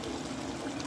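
Dry rice poured into a pot while making chicken biryani, a steady, close rustling pour that runs continuously without a break.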